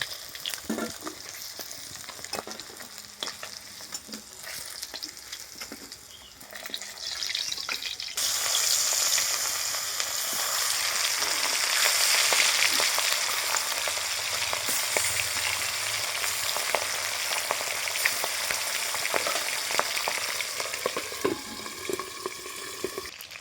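Cut fish pieces frying in oil give a steady, close crackling sizzle that grows louder and denser partway through and keeps going without talk.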